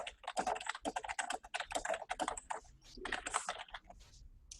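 Rapid, irregular keystrokes clatter on a computer keyboard in quick bursts with short pauses, close and fairly quiet, with no voices.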